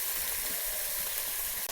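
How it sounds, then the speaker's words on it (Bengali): Shrimp fry in oil for a jackfruit prawn dish, producing an even, dense sizzle that holds steady through a short stretch. "মাছগুলো ভাজা হয়ে গেছে"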